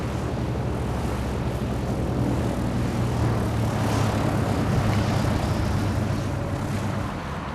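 A propeller airplane in flight during pilot training, its engine drone steady and loud throughout with no voices.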